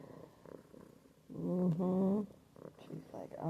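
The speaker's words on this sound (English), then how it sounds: "and purring away" A purring cat being scratched, its low steady purr sitting under close, affectionate talk and soft vocal sounds that swell loudly in the middle.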